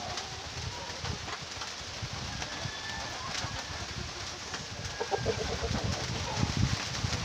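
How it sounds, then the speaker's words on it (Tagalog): A heavy Rhode Island Red rooster of about three kilograms clucks in a farmyard, with low, intermittent bird vocalizations over steady broadband background noise and a few louder bursts toward the end. "So ito yung ating Rhode Island Red mga ka-farmer na rooster."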